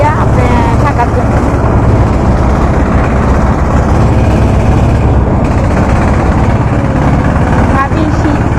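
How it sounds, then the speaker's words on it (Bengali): A sand-dredging trawler boat's engine gives a steady, loud low drone that runs without a break on the river, with people talking over it. "ওটা বালুর ট্রলার, বালু বা মাটি উঠায়, এই জন্যই ট্রলারের শব্দটা শোনা যাচ্ছে"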